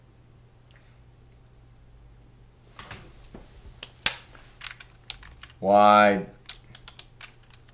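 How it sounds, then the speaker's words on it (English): Someone types a quick Google search on a computer keyboard: scattered, close key clicks build into a busy burst of typing, with a short spoken word partway through. "We're just going to type in a very quick Google search here."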